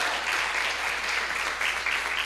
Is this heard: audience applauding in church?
yes